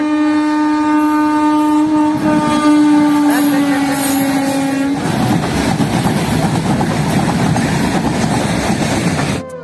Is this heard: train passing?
yes